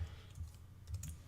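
Fingers tap a few soft keystrokes on a computer keyboard, faint and close, in a brief irregular run of muted clicks.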